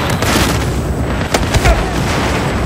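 A grenade blows up in a Battlefield match on Operation Locker, a short, loud boom punching through a dense wash of ongoing game noise, with no voices over it.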